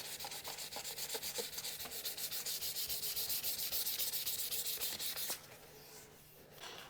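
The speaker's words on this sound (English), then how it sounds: "And then this is some 800 paper." Fine 800-grit sandpaper rubs over paintwork on a Squire Stratocaster guitar body, a close, quiet rasp in quick back-and-forth strokes that slows and softens near the end.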